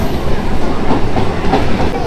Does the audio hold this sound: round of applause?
no